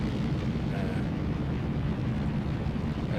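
Panavia Tornado IDS jet engines at full military throttle without afterburner in a flight simulator, a steady dense broadband roar with no breaks across the whole stretch.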